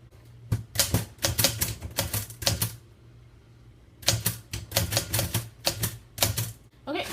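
A We R Memory Keepers Typecast typewriter typing on 12 by 12 paper: sharp, close key strikes in quick bursts, with a short pause in the middle before another rapid run of clacks.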